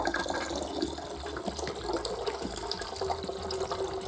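Water flowing through a Sawyer Squeeze filter into a drink bottle, a steady close trickle and gush that continues throughout without talking.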